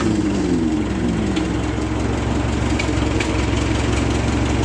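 A 1949 Ferguson TE20 tractor engine runs at a steady, loud, low throbbing idle close by.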